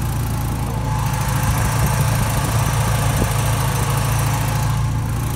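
A Porsche 944 Turbo idles with its air-conditioning compressor turning. The engine gives a steady, close mechanical hum with a faint rhythmic knock throughout, and no one speaks.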